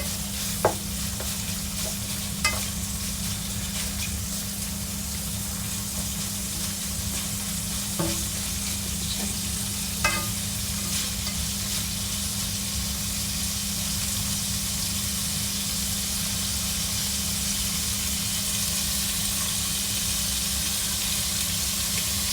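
Chicken franks sausages fry in a pan with a steady close sizzle and hiss throughout, a few light clicks of utensil against the pan early on.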